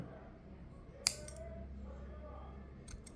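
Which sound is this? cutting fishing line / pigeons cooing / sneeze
cutting fishing line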